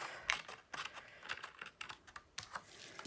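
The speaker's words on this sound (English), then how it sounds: "next I'm going to cut that piece off" A piece of paper is cut off during a Stampin' Up! Flowering Blooms card-making session, giving a quiet, crisp run of irregular snips and clicks close by, with no talking.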